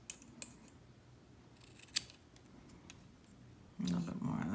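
Scissors snip cotton wick for an Augvape Merlin Nano MTL RTA, giving a few faint, close clicks over a quiet background, followed by a louder sustained sound near the end.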